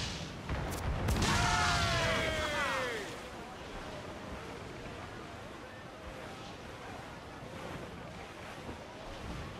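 A sailing ship caught in a squall at sea in the Assassin's Creed IV video game: a steady roar of wind and surf runs throughout, with loud shouted voices near the start.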